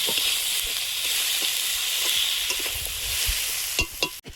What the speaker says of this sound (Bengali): ভালোভাবে মশলার সঙ্গে মাথাটা মিশিয়ে নেব।